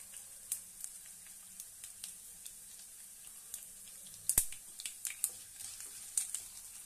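Garlic and urad dal fry in hot oil for gongura pickle, a soft steady sizzle with scattered crackles and pops, one sharp spatter near the middle, close and fairly quiet with no talking.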